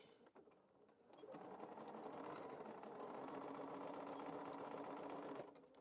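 A sewing machine stitches a quilt in a steady, close whirring run of about four seconds, starting and stopping cleanly with a faint mechanical tick at each end.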